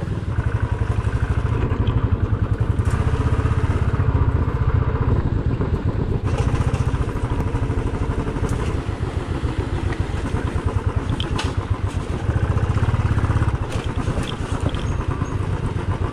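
Motorcycle engine running steadily near forest roads, loud and continuous with a rumbling, clattering idle that rises in short throttle swells, while the rider lets out the clutch.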